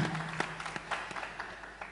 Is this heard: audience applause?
yes